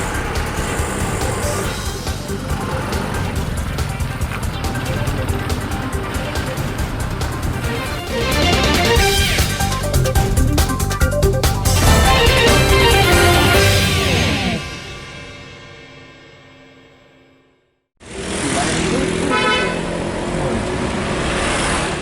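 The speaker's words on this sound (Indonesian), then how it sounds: "Mobil dan motor terseok-seok melintasi jalan rusak parah dan berlumpur di Mesuji." Cars and motorcycles straining along a badly damaged, muddy road in Mesuji, engines revving and droning loudly and continuously, fading briefly to near silence before traffic noise returns abruptly.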